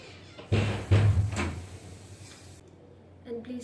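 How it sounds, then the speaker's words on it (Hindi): A door is pushed shut indoors, giving a couple of close thuds and a rattling bump before the room goes quieter, with faint sounds afterward. "पहले मैं दरवाज़ा बंद करके आती हूँ"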